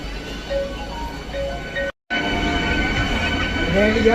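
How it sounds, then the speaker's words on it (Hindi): An Aligarh–Delhi MEMU passenger train passes close by with a steady, loud rumble of wheels and carriages, briefly cut by a short gap, then continuing with rising rail noise. "और ये सामने अलीगढ़ दिल्ली मेमू"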